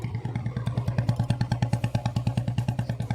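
A nearby modified Royal Enfield Bullet Standard motorcycle with a loud aftermarket exhaust revs with a loud, rapid, evenly pulsing exhaust thump, a deep throaty beat that never pauses.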